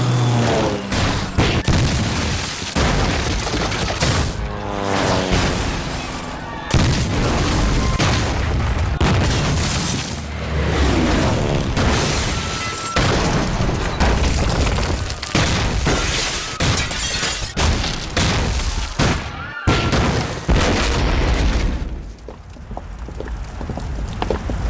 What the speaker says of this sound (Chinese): 肆虐的轰炸中，6朝古都承受了旷世摧毁。